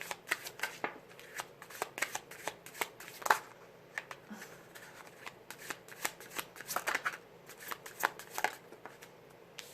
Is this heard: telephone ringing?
no